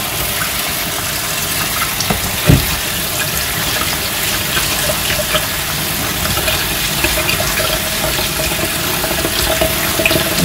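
Tap water runs steadily over quinoa being washed in a sink, a loud, continuous rushing and splashing with one brief knock partway through, and no voices.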